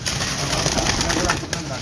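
Breeder pigeons coo on a Golmandi, Lahore rooftop, soft and close amid steady outdoor noise, with someone talking over them.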